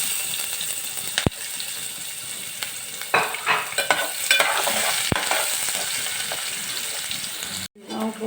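Chopped onions frying in a pan for a papad snack, a continuous sizzle with clanks and scraping as a spoon stirs them, ending with a sudden cutoff.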